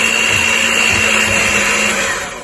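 An electric mixer on low blends flour into chocolate cake batter, giving a steady close whirring hum that runs continuously for a couple of seconds before easing off.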